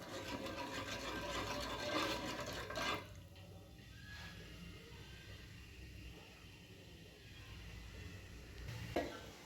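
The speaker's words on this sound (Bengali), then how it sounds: "ফুটে গেছে, জল ফুটে গেছে।" Water boiling in a pot for Bengali rice pitha: a rushing, bubbling liquid sound, louder for the first three seconds and then a softer steady simmer with occasional clinks of a pot.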